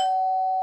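A single cartoon doorbell tone rings loud and pure, held steadily and then cut off abruptly.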